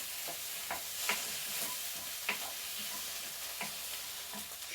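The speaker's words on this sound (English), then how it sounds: "Give that a quick stir." Sweet potato curry sizzling in a pan as it is stirred with plenty of water added, a steady frying hiss with soft periodic scraping strokes of the spoon, close and without talk.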